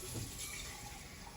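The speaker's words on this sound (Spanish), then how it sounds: "Voy a agregar otra taza más de agua porque me está quedando bien espesa." Water pours steadily into a pot of Honduran coconut conch soup being thickened with cassava, a continuous, even splashing rush with no pauses.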